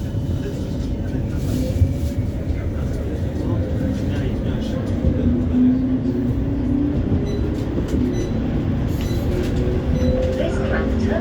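A West Midlands Metro tram pulls away from the Trinity Way stop, giving a steady, close rumble of wheels and motor that holds evenly throughout.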